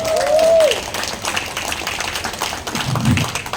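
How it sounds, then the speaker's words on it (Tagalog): Audience clapping at a church worship service, a short burst of claps alone with a brief whistle-like tone at the start. "Halata po yung mga palakpak nyo"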